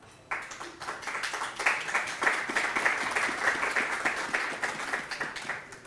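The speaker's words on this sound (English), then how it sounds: "Please, another round of applause." Audience at a Blackmagic Design conference and expo in Kenya breaks into applause after a presentation, starting abruptly and holding as a dense, loud, sustained clapping of many hands.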